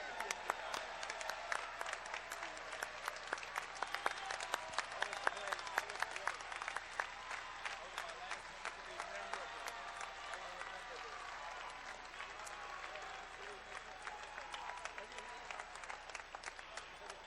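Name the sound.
audience applause for judges and referees at an arena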